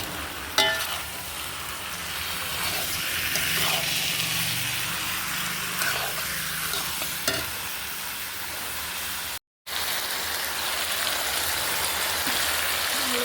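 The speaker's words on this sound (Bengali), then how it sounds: "মশলাটা দেওয়া হয়ে গেছে, কষাচ্ছি এটা।" Spice paste (masala) frying in a pan gives a loud, steady, rain-like sizzle that runs the whole time without talk, broken only by a brief silent gap.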